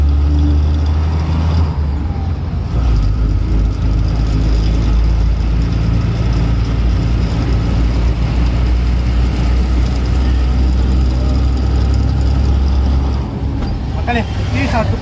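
A vehicle's engine drones loud and constant as it labors up a slope dotted with speed breakers, a heavy low rumble filling the whole stretch while a person talks over it.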